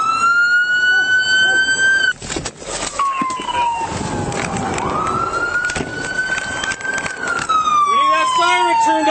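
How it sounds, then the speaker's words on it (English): Police car siren wailing loudly close by, sweeping up and down before cutting out briefly and then resuming, amid traffic noise and people shouting. "We need that siren turned off so we can do communication."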